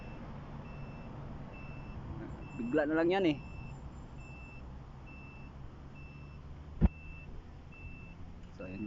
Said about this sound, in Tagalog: So yung truck namin tunog-tunog na.